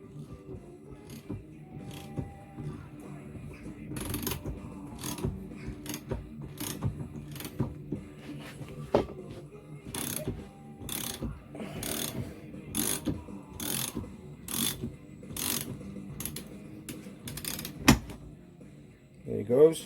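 A socket wrench ratchets in bursts of rapid clicks as it undoes the fork top nut on a Lifan 125 motorcycle, close and fairly quiet, with soft mechanical handling sounds between the bursts.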